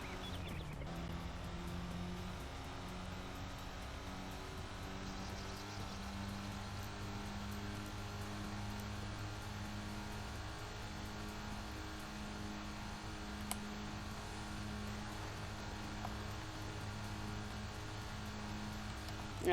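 Chrysler Crossfire engine in the Midtown Madness 3 racing game on original Xbox, a steady droning hum with sustained tonal harmonics held at a constant level throughout, with no voices.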